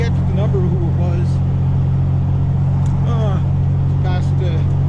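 Inside a vehicle on a bumpy road, a steady low engine and road rumble drones throughout while someone talks over it.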